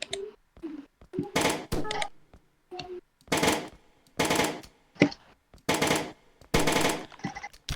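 Bursts of rapid gunfire crackle in short volleys separated by brief pauses, loud and close, like automatic weapons firing in the game Brick Rigs.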